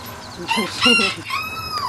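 Agitated chickens clucking and squawking nearby in a brief, loud flurry.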